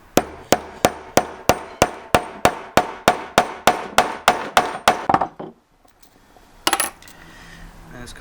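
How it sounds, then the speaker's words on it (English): Steady run of heavy hammer blows, about seventeen evenly spaced loud strikes, then a pause and a couple of scattered knocks and rustles. "get a good solid surface and a really heavy hammer"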